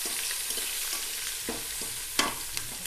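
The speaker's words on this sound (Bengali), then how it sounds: "দিয়ে এটাকে কিছুক্ষণ নাড়াচাড়া করব, হালকা করে ভেজে নেব।" Onion, garlic and ginger paste being stirred and fried in a rice cooker pot, a soft steady sizzle with a few scraping stir strokes and light knocks, close by with no talking.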